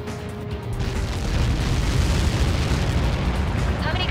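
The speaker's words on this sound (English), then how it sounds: "How many got caught in that explosion?" A deep, rumbling explosion in Ace Combat 7 swells and roars continuously, loud and sustained, with a faint tone fading early on.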